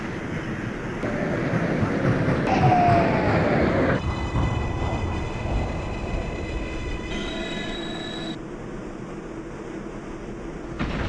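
A New York subway 6 local train runs near Canal Street toward Brooklyn Bridge–City Hall, with loud continuous rumbling, wheel squeal and rail clatter, then a steadier hum with tonal motor whine as it rolls on.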